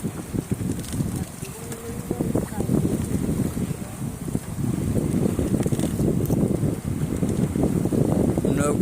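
Strong wind buffets a boat out on a river in the Sundarbans. Heavy, rumbling gusts hit the microphone close up and keep going throughout, with a few faint voices underneath.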